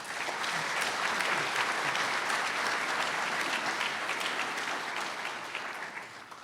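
Warm audience applause fills a hall at a first-year law welcoming ceremony, a dense sustained clapping from a large crowd that stays loud and then tapers off at the end.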